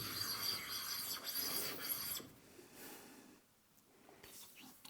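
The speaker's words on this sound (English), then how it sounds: "Going to hit the back side of this on the sanding plate too." A metal piece, its back side engraved and burred, rubbed on silicon carbide paper glued to an inexpensive surface plate; loud rasping strokes for about two seconds, then fainter scraping.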